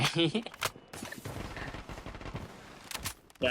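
Rapid bursts of gunfire in the shooter game Blood Strike crackle in quick volleys at the start and end, with a voice talking between the shots.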